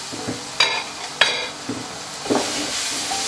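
Sliced green chilies hit a lightly oiled pan of onion and garlic with a steady sizzle, while a spoon scrapes and stirs in several sharp, close strokes.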